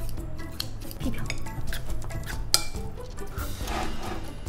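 Utensils scrape and clink against a dish as saucy food is mixed, with irregular close taps and rustling stirs and a brief sharp clink midway.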